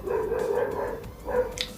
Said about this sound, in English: My neighbor's dog is going wild.